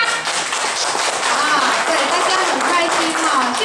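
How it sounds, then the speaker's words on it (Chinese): An audience at a gathering claps hands together in a steady, crowded patter that holds evenly throughout, with voices carrying over the clapping. "大家拍手，有没有很用力？"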